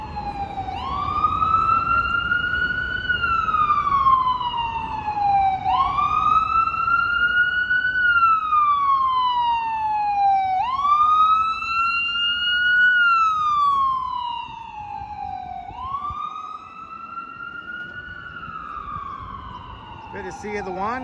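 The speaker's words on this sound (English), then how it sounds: "A parade of sirens." Emergency vehicle sirens on a busy Manhattan street, a loud wailing siren sweeping up and down in long repeated cycles over steady traffic noise, with another tone cutting in near the end.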